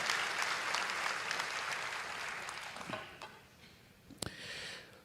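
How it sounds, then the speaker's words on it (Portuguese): Congregation at a Christian church service in Curitiba clapping together in sustained applause, dense and steady before thinning out, with a few scattered claps and cheers near the end. "E mais uma salva de palmas ao Senhor Jesus."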